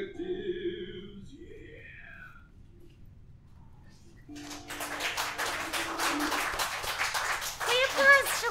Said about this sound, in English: The applause shall go away.